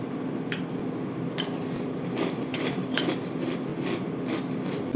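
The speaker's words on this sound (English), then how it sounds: "You guys can probably hear that when I'm chewing this." Close, crisp crunching of chewing Franken Berry cereal with milk, repeated bites in an uneven rhythm over a quiet room.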